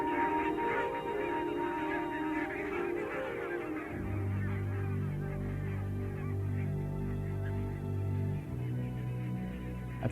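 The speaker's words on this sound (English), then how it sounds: "The arrival of the barnacle geese heralds the approach of summer on the islands." Barnacle geese honking on Arctic islands, a dense flock calling continuously and fairly close, with overlapping nasal honks and a low throbbing hum rising beneath them partway through.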